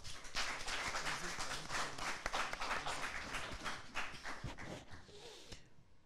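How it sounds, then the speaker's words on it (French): Studio audience at a French TV quiz show bursts into loud, sustained applause, dense clapping running for about six seconds before tapering off at the end. "Allez, on les applaudit très fort."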